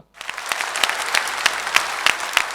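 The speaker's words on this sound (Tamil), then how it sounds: "நல்ல பலத்த கரகோஷத்தோட ஓவர் டு யூஸ்" After a moment of silence, an indoor audience at a corporate event for KAG Tiles breaks into steady, fairly loud applause that continues evenly with dense clapping and no talk over it.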